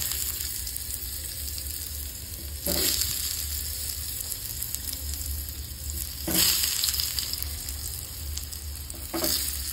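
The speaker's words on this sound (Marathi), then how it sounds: "तेल खूपच भाजलं आहे. जोरात आवाज आहे." Fish fingers frying loudly in very hot oil, a steady bright sizzle with a few louder bursts as pieces shift, close and continuous with no talking.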